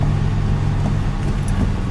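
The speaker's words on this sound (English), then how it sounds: "start the car up" A Ford car's engine idling steadily after start-up, with a low, even hum that holds at a constant level throughout.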